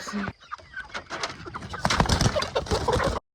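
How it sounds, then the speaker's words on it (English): A flock of roosters on a homestead clucks and squawks excitedly in the morning, overlapping calls and flapping filling the space continuously before cutting off abruptly. "They already know what's coming, so they're getting very excited about it."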